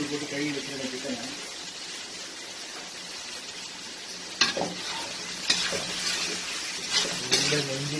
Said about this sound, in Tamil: இப்போ இந்த டைமில் நம்ம வந்து சிக்கன் போடுவோம்.